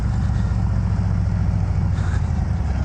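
A 2019 Harley-Davidson Road King Special motorcycle engine produces a loud, steady, deep rumble that runs continuously close by without any voices.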